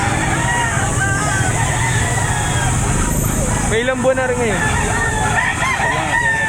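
Roosters and chickens at a poultry market behind SM City Lipa, Batangas: a rooster crows loudly nearby over constant clucking and background hubbub, while someone talks throughout.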